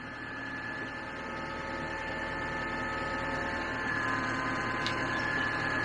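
A TYM T474 cab tractor runs at low idle, about 1,200 RPM, as a steady, even drone with a faint tonal whine, heard from inside the cab with no talking.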